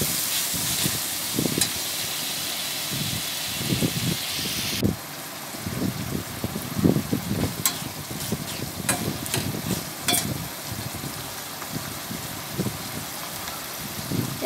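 Spices being fried with dried fish (shutki) in a pan, a steady sizzle with repeated scraping and stirring knocks, close and fairly quiet.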